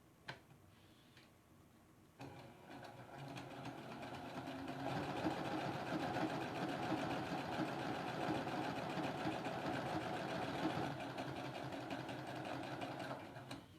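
A sewing machine stitches a half square triangle quilt block in a steady, continuous run, faint at first and then louder after a short pause, with no talking over it.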